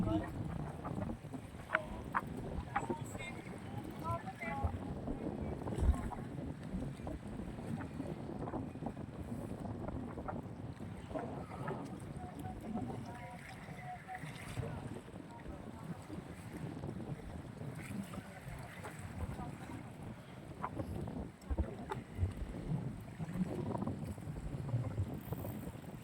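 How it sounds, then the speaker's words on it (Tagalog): Strong typhoon wind at Manila Bay in Pasay buffets the microphone in a continuous low rumble, with gusty roaring and faint water sounds underneath, steady and unbroken throughout. "Siyempre yung bagyo mga bayan, kahit hindi yung dito yung sentro niya, kaya malakas pa rin yung hangin."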